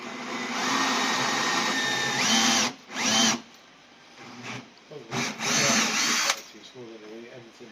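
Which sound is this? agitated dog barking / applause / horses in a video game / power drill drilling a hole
power drill drilling a hole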